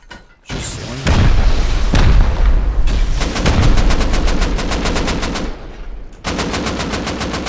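Rocket explosions and rapid gunfire during an online raid on an armoured bunker in a video game, heavy booming blasts followed by long, fast rattling bursts, loud and close with brief pauses between volleys.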